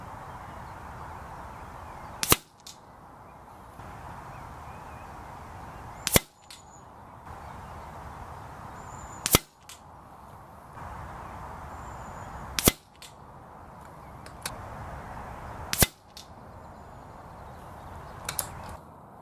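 A Daystate Wolverine air rifle fires pellets at targets 50 yards away: five sharp, loud reports spaced about three seconds apart, each followed by a faint distant tick, over a steady outdoor hiss.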